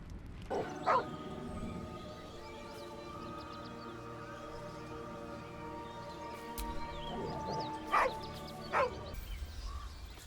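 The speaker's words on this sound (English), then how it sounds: "The dog whimpers nervously" A dog whimpering nervously in Baldur's Gate 3, a drawn-out tonal whine with short yelping accents near the start and again later, fairly close over a quiet ambient background.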